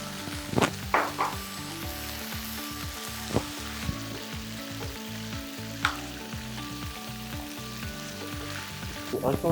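Chicken wings sizzling loudly in a pan as barbecue sauce goes in, a steady, close frying hiss broken by occasional scrapes and clicks of stirring.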